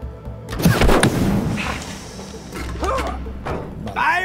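Gunfire in the video game It Takes Two: a dense burst of heavy, booming shots in the first second, then lighter pops and whooshing effects scattered over the rest.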